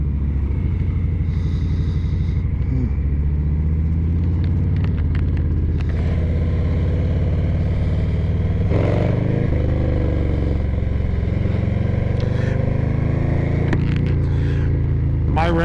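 A rented Harley-Davidson Lowrider ST motorcycle riding in Hawaii, its engine a steady low rumble with throttle swells and wind noise, and a rider talking over it.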